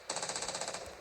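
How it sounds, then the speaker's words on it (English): Anti-aircraft guns in World of Warships Blitz hammer out a rapid, steady burst of bright, clattering shots for about a second, loud and close with no talk over them. "Anti-aircraft gun on full alert"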